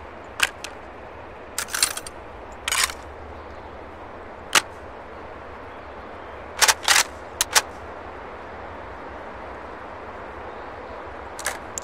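Machine gun in the VR shooter game H3VR, several short rapid bursts and single sharp shots scattered over a quiet background, crisp and fairly close.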